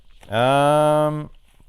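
A single loud, close cow moo from the film Tremors 5: Bloodlines, rising and holding for about a second before cutting off, with no other sound around it.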